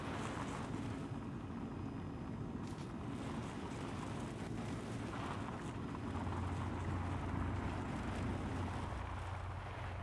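Golf cart engine in the survival video game Sons of the Forest, a steady low droning hum running continuously, with broad noisy wash like wind, fairly quiet and without speech.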